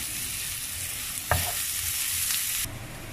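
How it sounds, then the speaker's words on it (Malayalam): Onions and masala gravy being sautéed for a pepper liver fry, a continuous close sizzle in the pan with a few sharp scrapes of the spoon as it is stirred. "എന്നിട്ട് നന്നായിട്ടൊന്ന് നമുക്ക് ഇളക്കി ഒരു ബ്രൗൺ കളർ ആവുന്ന വരെ നമുക്കൊന്ന് ഇത് നന്നായിട്ട് വഴറ്റിയെടുക്കാം"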